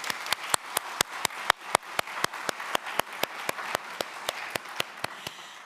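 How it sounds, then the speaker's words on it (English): Audience at a museum lecture gives a round of applause, though what shows is a steady, evenly spaced run of sharp single claps, like one or a few people clapping in rhythm, fairly quiet and with no talk over it. "Let's give them a round of applause"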